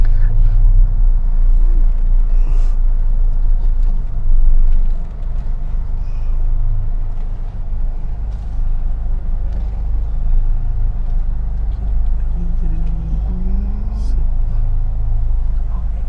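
Toyota Kijang Innova MPV engine running steadily as the car is put into gear and pulls away, a continuous low rumble heard from inside the cabin, with someone talking over it.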